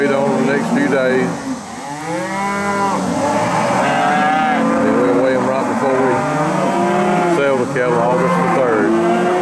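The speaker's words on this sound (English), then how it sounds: "Cattle be sorting and sorting away." Cattle bellow and moo loudly and repeatedly at a cattle sale, long drawn-out calls overlapping one another, with someone talking briefly over the herd.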